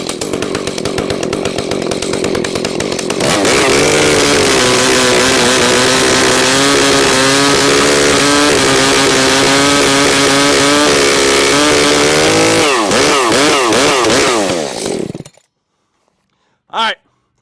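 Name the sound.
large heavy chainsaw running with milling attachment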